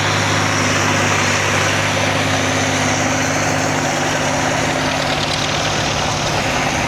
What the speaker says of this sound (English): John Deere 4010.